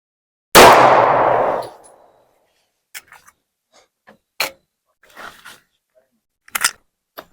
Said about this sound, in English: Let's try 9mm out of this Glock 48.